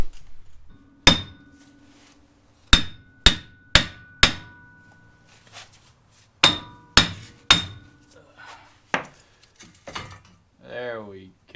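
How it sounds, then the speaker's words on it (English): Sledgehammer blows strike a cut-open hub on a 1994 Jeep YJ during a brake job: loud, sharp metallic clangs in uneven bursts, about ten strikes with pauses, followed by brief talk and a squeaky ending. "And then I'll just use my sledgehammer"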